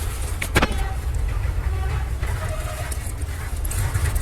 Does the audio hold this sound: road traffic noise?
yes